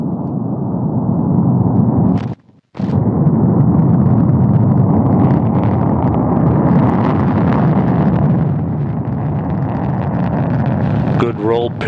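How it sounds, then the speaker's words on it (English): A Soyuz-2.1 booster lifts off from Baikonur carrying the Progress 79 cargo ship, its engines making a loud continuous rumbling roar that cuts out briefly and then resumes, while a commentator talks over it. "have engine ignition, turbo pumps building up to flight speed, and liftoff"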